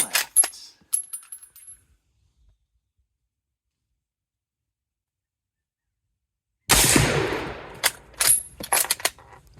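Two sharp gunshots from a short-barreled gun ring out outdoors, one at the start and another after a long silence, each a loud crack followed by a quick decaying echo and scattered clinks.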